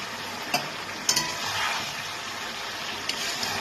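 Vegetables and pui greens get stirred in a pan while they fry, a soft steady sizzle with a few sharp clinks of a spatula against the pan.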